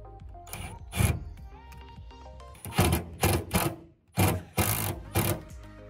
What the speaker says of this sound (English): we'll go ahead and just put our screws in